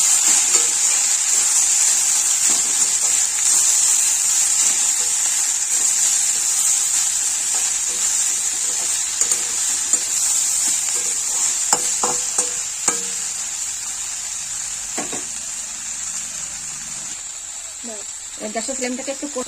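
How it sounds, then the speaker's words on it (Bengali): Water spinach (kalmi greens) seasoned with salt and turmeric sizzles steadily in a pan while being stirred, a constant bright frying hiss broken by scattered utensil scrapes and a few louder clinks near the end. "এবার এগুলোকে নেড়ে ভালো করে মিশিয়ে দিচ্ছি।"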